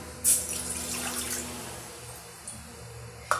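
Water is poured from a cup into a pot while making rice-flour dough for kozhukattai, a brief splash followed by a soft, steady trickle and a faint clink at the end, with no talking.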